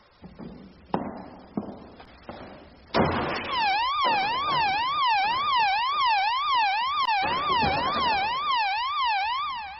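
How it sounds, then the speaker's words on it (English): After a few sharp knocks, a loud electronic alarm starts and wails in a rapid up-and-down pattern, continuing steadily to the end. "You're probably going to hear a loud bell, so don't let it startle you."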